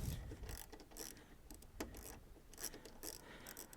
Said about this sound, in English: This one is a little easier to get with the ratchet.